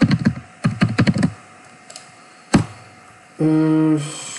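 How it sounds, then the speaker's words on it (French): Someone types a git command on a computer keyboard: quick bursts of close, crisp key clicks, a pause, a single heavier keystroke like Enter, then a short electronic tone. "je vais taper git checkout"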